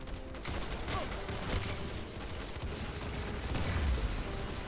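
Gunfire in the Roblox Arsenal video game: dense, continuous game audio with rapid popping shots and bursts layered over busy background effects, loud and steady throughout.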